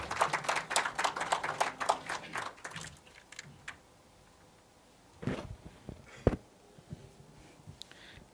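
Crowd applause at an awards ceremony welcoming a speaker to the stage, dense clapping for about three seconds that thins into scattered claps and faint room noise.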